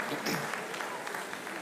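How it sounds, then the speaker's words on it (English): An audience claps in a packed hall at a comedy show, a dense, continuous burst of applause at close range. "Please clap for ourselves more."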